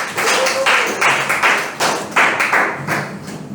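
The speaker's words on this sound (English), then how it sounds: "Can I have a huge round of applause for Govind?" Applause for a speaker at a youth leadership meeting: a room of hands clapping steadily for several seconds at close range, with a few louder bursts, then tapering off toward the end.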